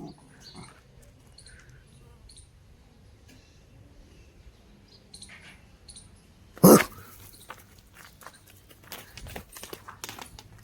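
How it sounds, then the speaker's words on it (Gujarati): Two small dogs give a few short, scattered barks, mostly faint, with one sharp loud yap partway through, against quiet outdoor background noise. "નાના નાના ડોગ પણ આવી ગયા કૂતરા આવી ગયા છે બે અહીંયા જ રહેતા લાગે છે"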